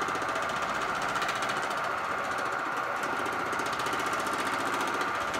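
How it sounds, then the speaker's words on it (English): Power hammer shrinking a sheet metal fender panel, a rapid continuous mechanical pounding that stays loud and even throughout, with no voices. "So now we'll go back over to the hammer and we'll shrink that."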